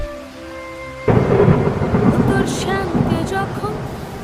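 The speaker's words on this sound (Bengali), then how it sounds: "এদিকে বৃষ্টি আরোই বেড়ে চলেছে" Heavy rain and a thunderstorm in an animated ghost story: after a second of calm, a loud rumbling thunder crash breaks in over dense, steady rainfall, close and full, with a voice briefly heard beneath.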